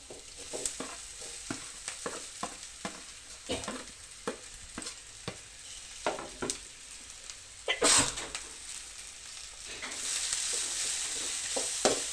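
Boiled drumstick leaves being stir-fried with softened onion in a pan, a steady sizzle broken by repeated sharp scrapes and clatters of the spatula, with a louder hiss toward the end.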